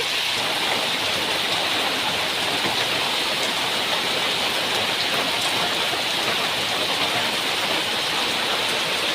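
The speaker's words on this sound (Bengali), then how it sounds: "বাইরে অনেক বৃষ্টি চলে আসছে দেখাচ্ছি" Heavy rain pours steadily in a dense, even hiss, continuous and loud without any breaks.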